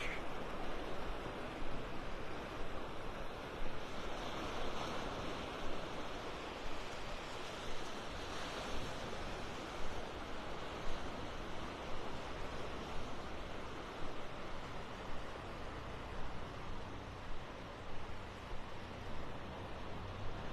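Surf washing ashore on Vanderbilt Beach in North Naples, Florida, a steady broadband roar of breaking waves running continuously and fairly close, with no voices over it.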